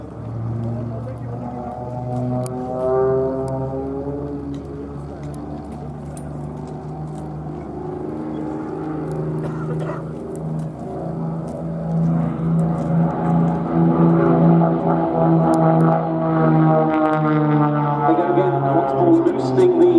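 Red Bull Matadors aerobatic planes fly in tight formation at the Duxford air display, their engine drone rising and falling in a sustained harmonic whine with a commentator talking over it throughout.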